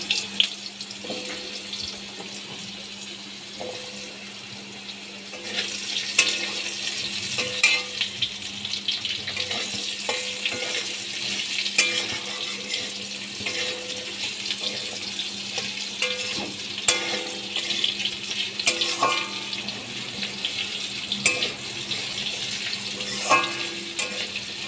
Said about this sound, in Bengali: আলুগুলো আমি ভেজে নিচ্ছি।